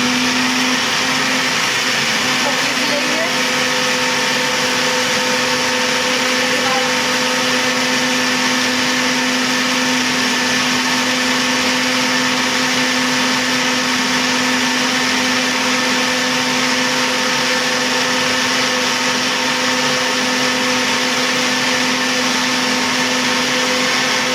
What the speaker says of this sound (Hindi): और इस प्रकार हम मिक्सी को पीस